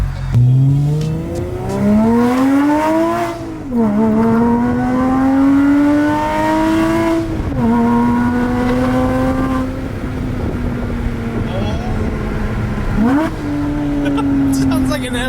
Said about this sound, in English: let me give you guys some good acceleration inside the car